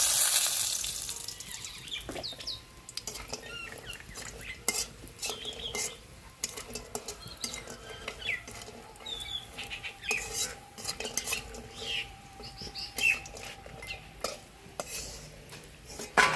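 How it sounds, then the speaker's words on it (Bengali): Neem leaves (bori) frying in oil in a kadai for neem shukto, with steady sizzle broken by clanking stirs of a metal spatula against the pan throughout, close and fairly loud. "ভেজে নিচ্ছি।"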